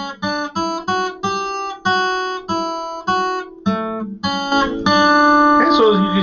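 A violin plays the second line of Minuet in G, a lilting line of detached notes in a steady dance rhythm, ending on a sustained note with some brief extra noise.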